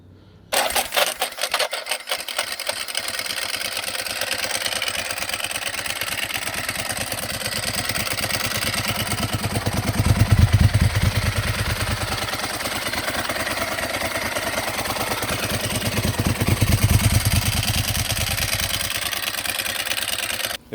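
A Ducati 999 motorcycle engine on the American model's auto start catches and settles into a steady, loud idle with a fast rhythmic pulse, swelling briefly twice as the revs rise and fall, with no voices.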